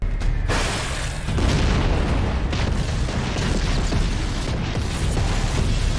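Bombs dropped by Marley forces explode on the Founding Titan in an Attack on Titan battle scene, giving a dense, loud, sustained roar of booming blasts and rumbling debris with no break and no talk.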